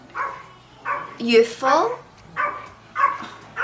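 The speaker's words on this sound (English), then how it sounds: "Dogs are going crazy." Several dogs bark in a repeated, excited series of sharp barks, loud and nearby, with a voice speaking briefly among them.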